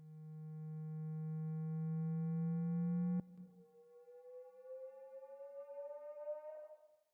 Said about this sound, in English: So the next sound we have here is this little riser thing